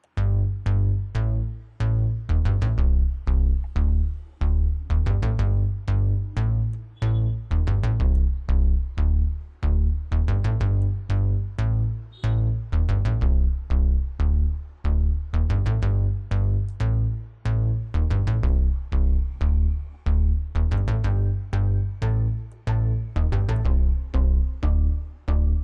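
FL Studio synth bassline using the Blue Sunday preset for a track, a repeating deep plucky pattern with steady rhythmic pulses, moderately loud and alone with no talk.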